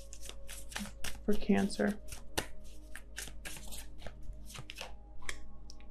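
Tarot cards being shuffled and drawn, with a run of crisp riffling flutters and sharp slaps of cards hitting the table, close and clear, while someone talks throughout.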